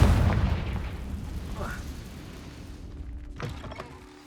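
A Confringo fire spell blasts in Hogwarts Legacy: a loud burst at the start fading into rumbling decay, with a second sharper crack around three and a half seconds, and a brief voice in the background.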